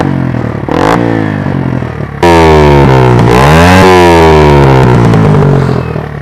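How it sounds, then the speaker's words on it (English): Sinnis Apache 125 motorcycle exhaust at close range, idling with a buzzy throb before a sharp, loud rev that holds high, rises and falls, then eases back down. "that's the sound of the actual exhaust"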